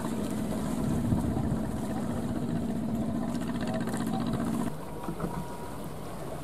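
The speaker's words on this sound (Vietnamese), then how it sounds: "Đây chiếc ghe thu mua của Ninh Thuận đang có chạy về cặp vào chiếc ghe cào nè các bạn" A Ninh Thuan fishing purchase boat approaches and docks against a Bến Tre trawler at sea, its engine droning steadily and loudly up close, then easing off near the end as water and wind noise continue.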